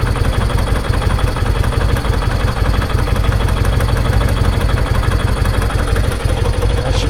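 A Vulcan motorcycle engine idles just after a carburetor clean, a steady, even low-pitched putter with a fast regular pulse, close up and alone for several seconds.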